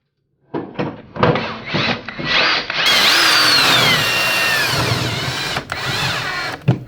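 Drill driving screws to install a Samsung over-the-range microwave: several short close whirring bursts, then a longer continuous high-pitched driving run with rising tone, ending with brief knocks and clicks.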